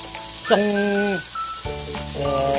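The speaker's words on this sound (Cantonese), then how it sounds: "個煎肉餅都唔錯，兩邊都煎到熟晒啦，金黃色" A meat patty fries golden brown on both sides in a pan over medium-high heat, a soft steady sizzle running throughout beneath continuous conversational talk.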